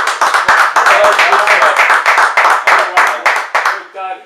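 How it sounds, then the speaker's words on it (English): Audience applause for a retiree at a Long Beach Lions Club event: loud, close, continuous hand clapping with sharp claps throughout, dense and steady for about four seconds before a brief voice at the end. "let's give him a round of applause."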